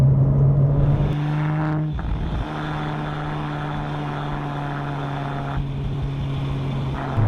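Porsche 997 GT2 RS with PDK gearbox driven hard on an open road, loud steady engine drone with two sharp gear changes near the start, then a sustained pull at high revs alone without talk.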